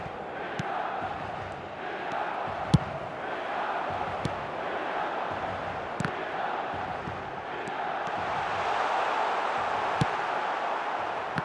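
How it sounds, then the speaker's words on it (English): Simulated stadium crowd from the eFootball video game, a steady murmuring roar of spectators with occasional sharp clicks and small swells of cheering. "the crowd have tried to spark some excitement, but to no avail"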